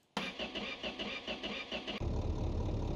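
A car engine in the racing garage game My Garage cranks and catches, its rough rhythmic turnover pulsing for nearly two seconds before settling into a steady, loud running note.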